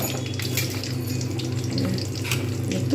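Lentil dumplings (bori) fry in oil with a steady, even sizzle and bubbling hiss that carries unbroken throughout, over a low background hum.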